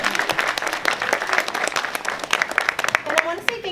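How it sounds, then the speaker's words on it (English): At a school cabaret concert, an audience gives a round of applause to supporting administrators, with brisk, uneven clapping that stays under a speaking voice. "If we could give them a round of applause for being here to support the students."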